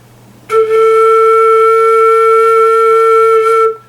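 A single steady flute tone sounds close and clear for about three seconds, breathy at the onset, then stops.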